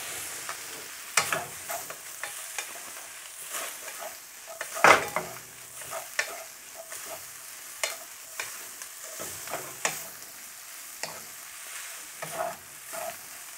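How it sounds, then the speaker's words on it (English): Chicken chow mein is tossed and stir-fried in a wok, with a constant sizzle broken by repeated clinks and scrapes of utensils against the metal, close and rhythmic. "we're going to just combine it all by tossing it into the wok"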